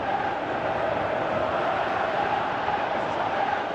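A stadium crowd in the football game Pro Evolution Soccer 2018 gives a steady, even roar of applause and murmur, distant and continuous for a few seconds with no clear breaks.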